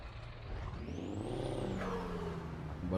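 Scania truck engine in Euro Truck Simulator 2 runs with a steady low rumble, a rising and falling whine sweeping over it, close and fairly loud with no talking.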